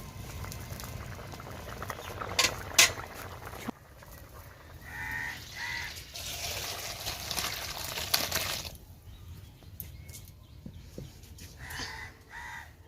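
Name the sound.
potatoes boiling in water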